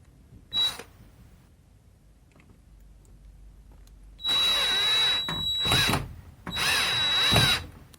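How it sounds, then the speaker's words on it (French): A power drill drives screws into wood for a corner wall shelf, with a brief blip and then two sustained whirring runs separated by a short pause, close and fairly loud in a quiet room. "les vis, elles rentrent facilement dans le bois, donc je vais pas prépercer"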